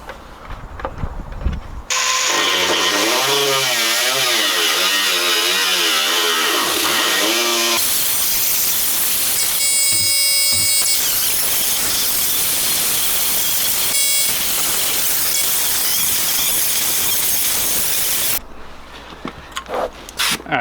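An air-powered cutting tool slices through the fender of a Nissan 240SX S14 while the air compressor struggles to keep up. A loud, close rasping buzz wavers and surges for several seconds, then settles into a steadier harsh grinding before cutting off near the end.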